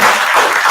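Audience clapping after speakers at a live book launch, a brief burst of dense, even applause filling the room.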